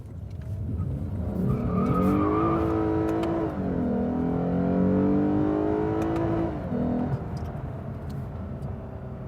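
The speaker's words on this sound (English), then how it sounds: "let's check out the acceleration here." A 2015 Lexus RC350 F Sport accelerates hard in Sport Plus mode with traction control off, its engine revving up through the gears with rising and falling tones and a brief shift dip, loud and continuous, with no voices.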